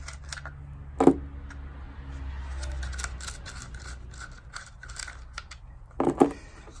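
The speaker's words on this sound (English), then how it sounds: "So the first step will be taking out these 2 tensioning screws." Tensioning screws are backed out of a holster with a tool, giving two sharp clicking bursts with quiet scraping and rubbing between them.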